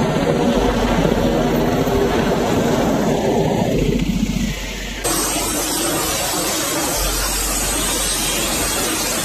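A Black Hawk military helicopter flying, a steady loud rotor and engine drone with broadband whoosh that holds throughout and shifts slightly in tone partway through.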